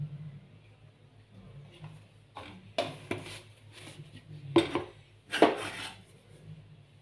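A pan handled on a kitchen stove before frying dry fruits in ghee, with a few clanking metal knocks and scrapes standing out over a low steady hum.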